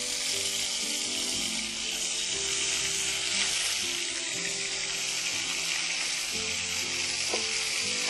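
Garlic ginger paste and ground onion frying in hot oil in a pan, a steady loud sizzle running throughout, with occasional stirring scrapes and no voices.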